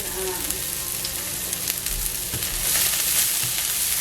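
Onions and other breakfast bowl ingredients cook in a pan with a steady, close sizzle and occasional stirring clatter, no talking heard.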